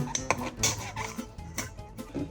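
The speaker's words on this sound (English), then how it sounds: "Stir it, stir it, stir it." A spoon scrapes and clinks against the heavy pot while peanut sauce is stirred in a Dutch oven, a series of irregular close metallic taps and swishes with no talking.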